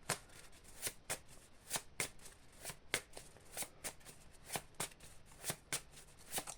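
Sailor Moon cards are shuffled by hand in a rapid run of crisp riffling flicks, close and fairly quiet, repeating about twice per second.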